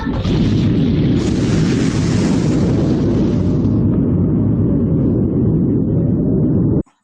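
A loud Harley motorcycle roars like an explosion, a heavy, continuous rumbling blast that holds steady for about seven seconds before stopping abruptly.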